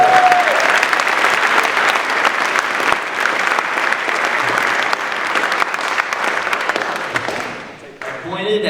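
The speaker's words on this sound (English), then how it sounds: "Let's give John Brand a round of applause." Loud, sustained applause from an audience at a Mississippi Boys State opening ceremony greeting John Brand, dense clapping holding steady for several seconds before tapering briefly, with some voices mixed in.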